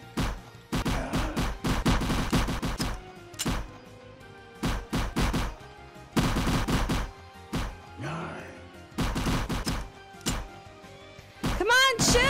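Rapid bursts of gunfire from shooting zombies in a Roblox zombie-outbreak bunker game, with repeated loud volleys separated by brief pauses and some thuds, under excited talk.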